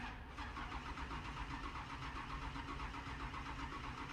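A Camaro engine in Farming Simulator 25 cranks and fires on a cold start, then settles into a steady, throbbing idle with a rapid, even pulse, loud and alone.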